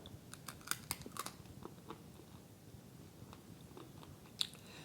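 Crunchy dehydrated canned tomatoes being bitten and chewed, giving scattered sharp, crisp crunches and clicks up close, with a few stronger snaps near the start and one near the end over a quiet background.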